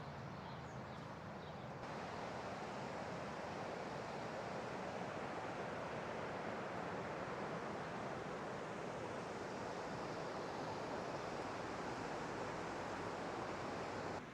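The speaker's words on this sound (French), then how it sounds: "Tu vois ce que je vois? La petite cascade." A small waterfall beside a hydroelectric plant on the Ebro river in Logroño gives a steady, unbroken rush of falling water, even and moderately loud throughout with no voices.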